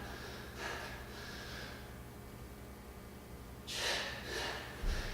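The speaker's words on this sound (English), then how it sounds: "Exhale and push up." A person doing push-ups during a fitness assessment breathes out forcefully, with two close, breathy exhales a few seconds apart against a quiet room.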